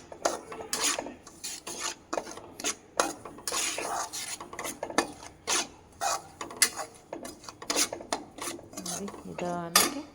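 Native-cow colostrum (ginnu) is roasted and stirred in a pan: repeated metallic scraping and clattering strokes of a ladle against the pan, close and fairly quiet, coming in uneven bursts with no talking.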